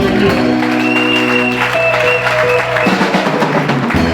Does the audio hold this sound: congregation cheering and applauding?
yes